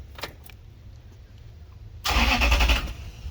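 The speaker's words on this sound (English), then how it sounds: "now comes the time to hear that engine purr. So let's crank it over" After a faint click or two, a Toyota Land Cruiser FZJ45's 4.7-litre gasoline V8 cranks briefly and catches, roaring into a loud, steady idle up close.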